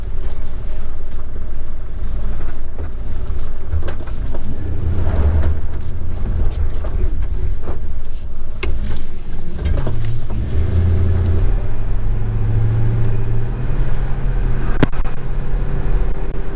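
A 1948 Willys Jeep on a test drive rumbles loud and close from inside, its engine a continuous low drone with rattles and knocks from the ride, changing pitch slightly as it accelerates.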